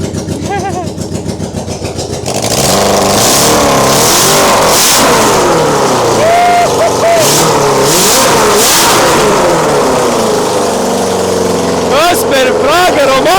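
A car engine revs inside a garage, starting quietly, then roaring loud and steady with repeated rising and falling revs and a sharp burst near the end, under occasional talk.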